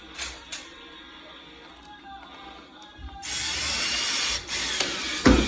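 A power drill drives screws while a door is being hung on its mortised hinges, running as a steady, close whir for the last couple of seconds after a quieter stretch.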